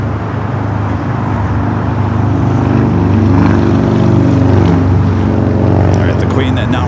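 A Boeing 747 rolls down a runway at LAX with a loud, steady roar of jet engines and a low rumble that builds slightly in the middle.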